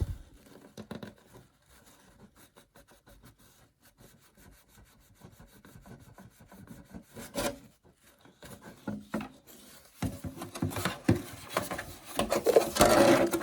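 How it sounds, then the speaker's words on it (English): A brush scrubs Tamiya body cleaner across a plastic model car body with light pressure, giving a steady close-up rasping and rubbing that swells louder and busier toward the end, with no talking. "I'm not putting any much pressure on it at all. Letting the brush do all the work."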